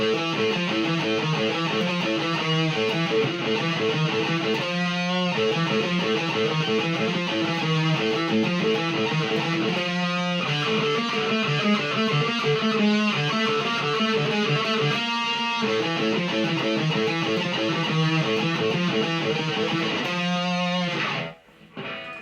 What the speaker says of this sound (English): So the chorus sounds like this.